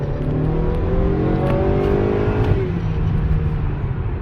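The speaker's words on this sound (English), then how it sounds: "I'm going to floor it" A Honda Accord 2.0t, a turbocharged front-wheel-drive sedan, accelerates at full throttle from a cruise: a loud, continuous engine roar climbs steadily in pitch under constant road and wind noise, with no talking.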